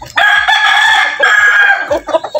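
Rhode Island chickens in a breeding pen, a rooster crowing loudly and close for about two seconds, followed by short clucks from the hens.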